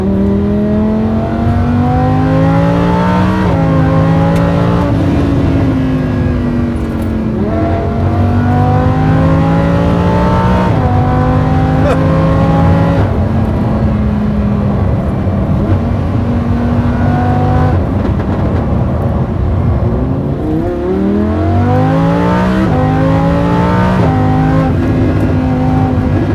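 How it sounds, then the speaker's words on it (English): A Lamborghini Huracan with carbon aero parts, a wing and an aftermarket exhaust roars continuously from inside or close by, rising and falling through repeated gear pulls with loud revving sweeps and shifts, and no voices. "the exhaust, like, because the sound out of it's unreal"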